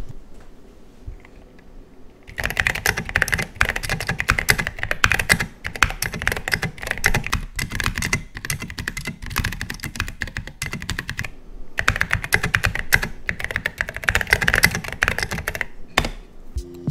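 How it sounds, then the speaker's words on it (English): Steady, rapid typing on a custom GK64 mechanical keyboard with foam inside, dense muted clacks close to the microphone after a quiet start, with a couple of brief pauses. "putting foam inside your keyboard"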